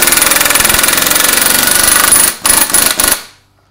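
Rapid mechanical rattling of a power tool tightening a bolt on a classic Mini Cooper S engine, loud and steady with a few short bursts before it cuts off.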